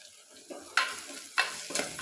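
Lengthwise-sliced onions sauté with salt in a pan, with a few distinct scraping stirs over a quiet, intermittent sizzle.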